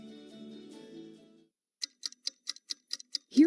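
A clock ticking in a radio advertisement, crisp evenly spaced ticks, about eight in a row, standing alone after a brief musical tone fades into silence.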